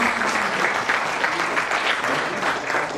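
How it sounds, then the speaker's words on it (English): Applause from an audience at an architects' association installation ceremony, dense and steady hand-clapping sustained at full strength for about three seconds. "Needs a bigger round of applause."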